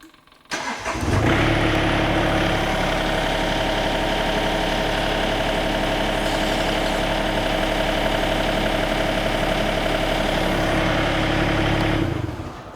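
A Toro Dingo TX 1300 compact utility loader's engine starts and settles into a steady, loud idle close by. It runs for about eleven seconds with no talk, then shuts off.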